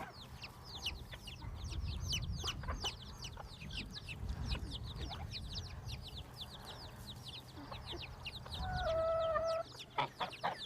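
Chicks, a bantam hen and guinea fowl fill the air with busy overlapping peeps, clucks and chatter, a dense, steady flock chorus at moderate distance with no talking.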